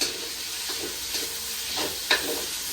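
Ingredients sautéing in oil in a pan, a steady close sizzle broken by a few scraping stirs and a sharp clink near the end, with no talking.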